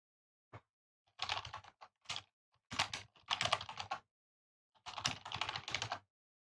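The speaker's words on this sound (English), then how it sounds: "I should mute myself or finally fix my webcam, so my microphone, so you don't hear me typing." Computer keyboard typing during an online poker tournament session, close and fairly quiet, arriving in several short bursts of rapid key clicks separated by silent pauses.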